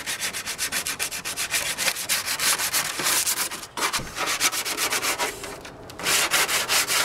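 Motorcycle brake discs being hand-sanded during a Benelli and Ducati track bike restoration, a steady loud rhythmic rubbing of abrasive on metal with repeated back-and-forth strokes and a brief pause midway.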